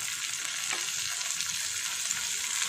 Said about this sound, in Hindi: तो अब इसमें हम डाल देंगे ये टमाटर